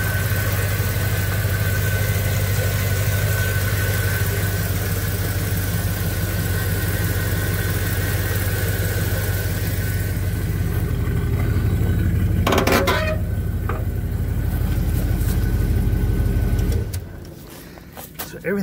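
A 1972 Oldsmobile Vista Cruiser engine with about 80,000 miles idling nearby: a steady low rumble and hum lasting most of the stretch, briefly overlapped by a sharper mechanical clatter, then shutting off near the end.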